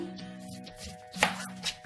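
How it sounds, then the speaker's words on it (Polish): A knife slices through an onion on a board, giving a few soft, close chops in quick succession that sit quietly over a low kitchen hum. "Cebulkę kroimy."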